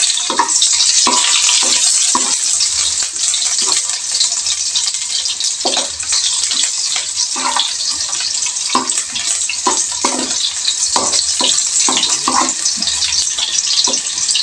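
Onion and garlic sizzling in a pan for adobong kangkong with sardinas, a loud, steady bright frying hiss broken by repeated scraping knocks of stirring.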